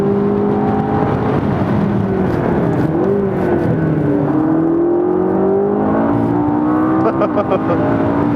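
McLaren 650S engine accelerating on a racetrack, a loud continuous roar with rising and falling revs and gear changes heard from inside the car, with a voice speaking over it.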